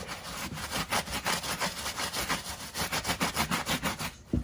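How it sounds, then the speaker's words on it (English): A brush scrubs an Air Jordan 11 sneaker with cleaning solution in quick, rhythmic back-and-forth strokes, about a dozen close but fairly quiet rasps, with no voices. "I'm going to dip that in my solution. Then we're going to go ahead and begin scrubbing."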